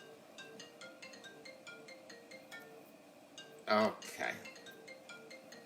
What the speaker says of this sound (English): see the phone start to ring over here